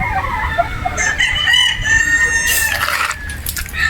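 Boston Roundhead chickens on a game farm in Batangas, with a rooster crowing loudly nearby, a long drawn-out call over constant clucking and other fowl noise.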